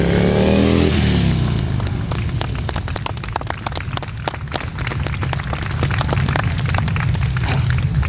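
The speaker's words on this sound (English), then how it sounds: "Two riders and their motorcycles moving in unison with the double weave." Two motorcycles of a precision riding team weave in unison during a beach show, their engines rumbling close and loud with sharp popping exhaust bursts scattered through the pass.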